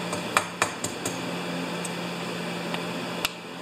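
Light metallic taps on the carburetor of a John Deere TRS 24 snowblower, a handful of quick irregular knocks over a steady hum, close by and without talk.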